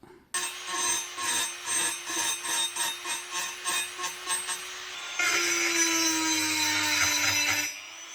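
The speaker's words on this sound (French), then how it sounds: "après quelques coups de Dremel, ça finit par passer" Dremel rotary tool grinding out a screw hole on a car part, a rhythmic, repeated high-pitched whirring grind in short strokes, then a steadier continuous buzz near the end, close and fairly loud with no talking.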